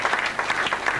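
A church congregation at a prosperity seminar breaks into brief, dense applause, a burst of many hands clapping at once that fills the space at close range.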